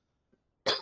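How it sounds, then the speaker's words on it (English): A single harsh, loud cough bursts out near the microphone after a brief faint throat sound, from a gamer playing Cities: Skylines 2. "sorry for that terrible cough"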